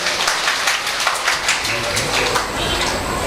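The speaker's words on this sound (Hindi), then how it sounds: "जोरदार तालियों से स्वागत" Crowd applause at a Shrimad Bhagwat Katha religious gathering in a temple, dense continuous clapping that stays loud and even through the whole short stretch.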